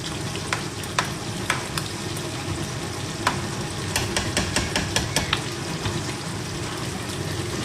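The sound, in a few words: food cooking, boiling in a pot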